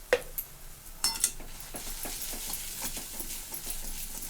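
Spices and onion stirred in a pan while cooking a green pea vegetable dish: a spoon scrapes and clicks against the metal in a steady irregular rhythm over a faint sizzle, close by with no talk.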